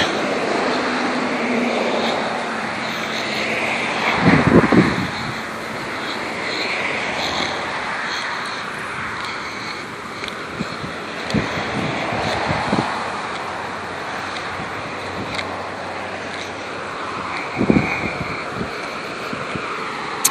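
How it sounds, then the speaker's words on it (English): Strong haboob dust storm wind roars steadily and broadband throughout, with a few louder gusts or buffeting thumps near the start and end, and no talking. "It's a lot of wind and a lot of blowing and debris flying around."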